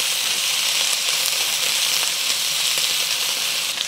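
Pork and onions sizzle steadily in a hot pan for a Chinese soup-noodle dish, a dense, continuous frying hiss holding close and loud throughout with no voices.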